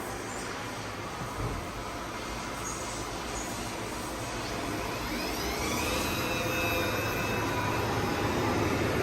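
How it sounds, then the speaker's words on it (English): A 2014 Hurco VM10i CNC vertical machining center runs with a steady broadband mechanical roar, while rising whine tones sweep upward as the spindle spins up, suggesting table movement and a tool change before the spindle settles at speed. "Now we'll show some table movement, tool change, and run the spindle."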